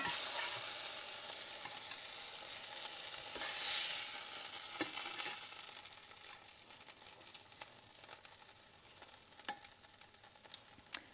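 Hamburger steaks fry in a hot skillet with a steady broadband sizzle, a louder surge of spattering near the middle, then fainter crackles and a few sharp pops toward the end; no voices.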